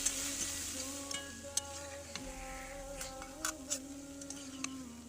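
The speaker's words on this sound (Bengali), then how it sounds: "আগের থেকে ধুয়ে রাখা মাছগুলো একটু ভেজে তুলে নিচ্ছি লবণ হলুদ দিয়ে" Small fish fry in hot oil in a kadai with salt and turmeric, a soft continuous sizzle with scattered sharp pops and crackles over a steady low hum.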